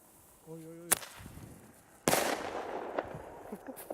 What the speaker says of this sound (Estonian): Ja see paugu oma oli siis selline Thunder King ja neid müüakse, neid on 6 tükki ühes pakis.